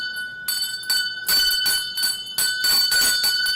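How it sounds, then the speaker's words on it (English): A small bell rung repeatedly on a game show, producing several bright, ringing strokes in quick bursts with sustained metallic tones between them, loud and close with no talk over it. "Ring the bell, Michelle, Andrew."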